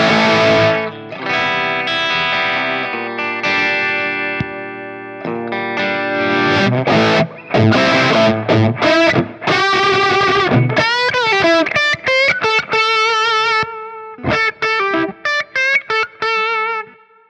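Electric guitar played through a Stonewall Audio Stage One gain stage pedal with the bright switch engaged and a tight setting: sustained overdriven chords ring first, then choppy, staccato riffs with bright, gritty distortion follow, played alone.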